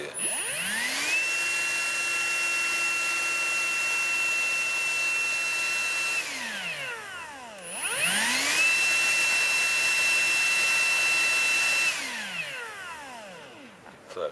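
A Vitals ALs 18125P cordless angle grinder with a controller fault spins up, runs at a steady high-pitched whine for several seconds, winds down, then spins up and runs again, loud and close with no talk.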